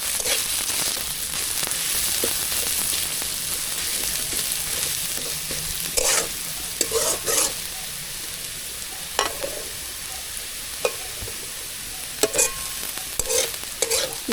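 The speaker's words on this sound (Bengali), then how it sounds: "পেঁয়াজ পুরো ভাজা হয়ে আসছে।" Onions frying with salt in a pan, continuous sizzling hiss broken by intermittent scraping stirs and clatters of a spatula, close and fairly loud with no voices.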